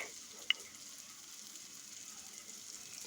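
Garlic paste going into a pan of beef brain, a faint soft sizzle running throughout with one sharp click near the start, quiet and without talk.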